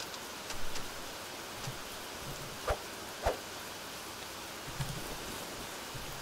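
Steady rain hisses throughout, broad and even, with a few soft isolated thuds standing out against the wash, in the video game How to Survive 2.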